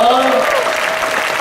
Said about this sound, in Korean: 멋지네요. 박수.